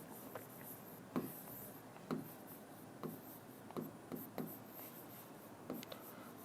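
Marker or chalk writing on a board during a Hindi-language maths lesson on percentages, heard as faint scratchy strokes in short bursts roughly once a second, fairly quiet with no voices.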